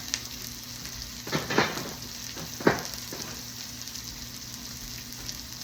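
Food being sautéed in a pan for pulled pork quesadillas, with a soft, low sizzle and a few sharp scraping stirs near the start before it settles into a quiet hiss, no talking.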